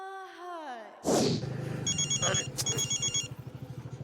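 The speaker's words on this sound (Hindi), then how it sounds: "एक मिनट बार बार फोन आ रहा है" A telephone rings over and over in a steady, rapid electronic trill, loud and close, after a thud and a brief voice at the start.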